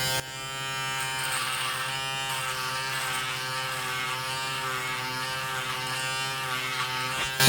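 A Panasonic ES-RM3B Arc 3 electric shaver trims along the sideburns, a steady close buzz running alone for several seconds, with slight changes in tone as it moves across the hair.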